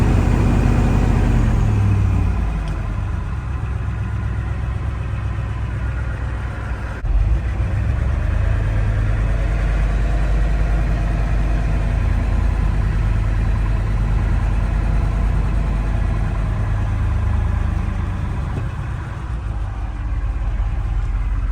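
A 1973 Ford F250 truck engine runs steadily with a deep, loud rumble, its pitch rising and falling slightly as throttle is applied, close to the microphone.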